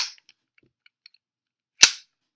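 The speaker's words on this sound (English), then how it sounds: "Put in the mag, put in the gun, fire." A WE plastic Glock airsoft pistol fires a single sharp, loud pop after a few faint clicks of handling.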